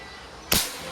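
A single sharp, short crack from a Crosman MagFire Ultra .177 break-barrel air rifle being fired close by, standing out alone against a quiet background.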